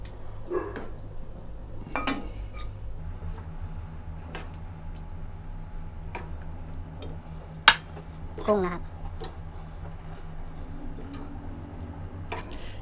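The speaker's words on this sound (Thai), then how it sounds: "ตักใส่หม้ออบกันเลยครับ" A spoon clinks and scrapes intermittently against a butter-coated baking pot as cooked rice with Chinese sausage is scooped in, with scattered light taps and muffled talking in the background.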